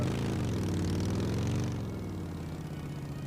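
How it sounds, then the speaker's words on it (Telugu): Airplane engine drone in the video game PUBG, a steady loud propeller hum that eases slightly in level toward the end, heard alone without talk. "అగో ఫ్లైట్ డ్రాప్ ఎక్కడ పడుతుంది చూడు"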